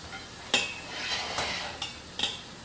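Oxtail pieces going into a cooking pot for Sunday dinner, heard as a few distinct clinks and scrapes of utensil against pot over a faint sizzle, close and moderately quiet, with no voices.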